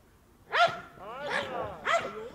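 A dog gives three sharp, loud barks in quick succession, each a bright bow-wow close to the microphone, with short quiet gaps between them.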